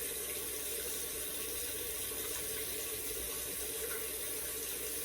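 Hot water runs steadily from a tap onto a washcloth, making a continuous, even rushing splash with no pauses or voices.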